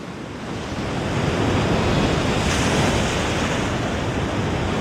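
Ocean waves and surf off the African coast by a seal nursery, a steady broad wash that swells slightly louder after the first half second and stays continuous, with some wind noise mixed in and no voices.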